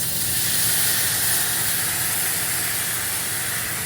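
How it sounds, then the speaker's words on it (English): Steady broadband hissing and sizzling of water hitting a hot cast iron pan, with grease spraying up, continuous and fairly loud throughout with no voices. "put water on it. The water. See all that grease starts spraying up."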